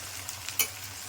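Chunks of elephant foot yam are stirred and sautéed in a pan, a faint steady sizzle broken by a short scrape of the spoon in the middle.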